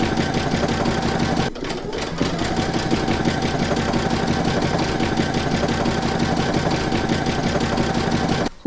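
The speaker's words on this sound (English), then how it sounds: "pop your hoop into your machine and stitch round number 9 to secure it" An embroidery machine stitching a securing round on fabric held in a hoop, giving a steady, fast mechanical hum and needle chatter that runs continuously with one brief pause, close by, with no voices.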